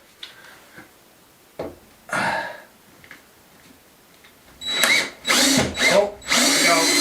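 A power drill drives a screw out of two joined pieces of timber, giving several short, close bursts of whirring at first and then longer, louder runs near the end at high torque.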